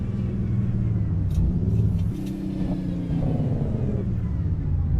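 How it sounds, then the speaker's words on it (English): A Mack RS700 truck in American Truck Simulator downshifting, its deep engine rumble dropping and rising in pitch through a gear change, steady and close with no talk. "Just going down through the gears now."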